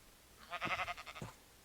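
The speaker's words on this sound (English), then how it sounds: "now I have 2 orange sheep" Sheep bleat in Minecraft, a short wavering cry followed by a second brief bleat, fairly quiet and alone with no talk.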